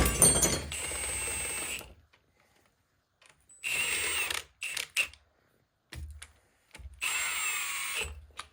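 Power tool work on an NV4500 transmission during a rebuild, heard as several short, close mechanical whirring bursts separated by silent gaps.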